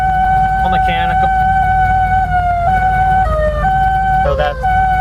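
A loud mechanical siren on a 1977 Dodge Ramcharger SE wails continuously, its pitch sliding and wavering up and down, close by and dominating the whole stretch.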